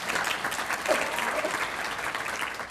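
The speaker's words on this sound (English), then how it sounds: "before I even say anything, they clap" Audience applause at a school district State of the District event, a dense, steady wash of many hands clapping in a large room, continuous and fairly loud throughout.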